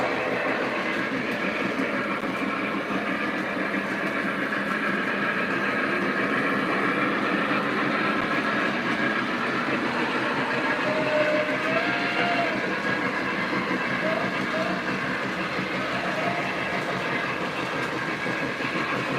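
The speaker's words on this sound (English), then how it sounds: "That's a nice long coal train." A long coal train rumbles past steadily near Horseshoe Curve with rolling wheel noise and faint clatter, sustained and fairly close throughout.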